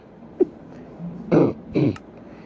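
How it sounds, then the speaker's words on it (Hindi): A couple of short, rough coughs close by, one after the other, following a brief throaty sound in an otherwise quiet moment. "देखो हंसी वाले खांसी आ गई।"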